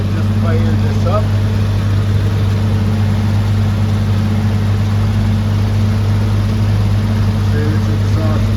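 A tuned 468 engine idles just after start-up with a steady, deep, rumbling hum that holds at an even loud level for several seconds without revving.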